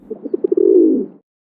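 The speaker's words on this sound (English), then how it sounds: "A wood pigeon is a very common bird here in the UK" A wood pigeon, a common UK bird, calls up close and loud, a short series of soft rhythmic coos that run into one longer sustained coo and then stop, with silence after.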